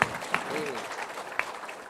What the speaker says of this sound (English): Let us applaud the panelists.